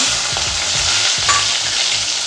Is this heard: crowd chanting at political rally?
no